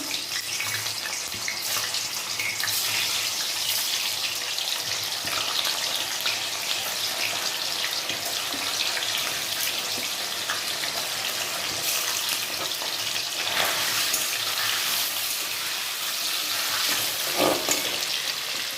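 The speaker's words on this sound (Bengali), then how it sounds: "পনিরগুলো একটু হালকা করে ভেজে নেব" Paneer cubes fry lightly in a pan for a mixed vegetable paneer dish, giving a steady, close, bright hiss that runs unbroken for the whole stretch with no talking.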